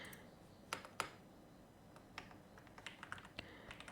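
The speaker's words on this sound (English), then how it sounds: "so I'm just gonna type it again." Quiet, close typing on a computer keyboard: a few isolated key taps, then a quicker irregular run of soft clicks.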